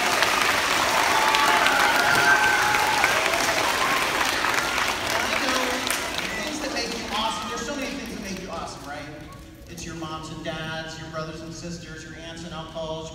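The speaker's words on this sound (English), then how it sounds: "Give yourself a big applause" Students applaud loudly at a school assembly, a dense clapping roar that tapers off over several seconds before voices and other sounds take over.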